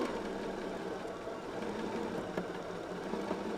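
A sewing machine stitches a quilt binding seam in a steady, close-up hum with a fine rapid chatter, running without a break and with no voices.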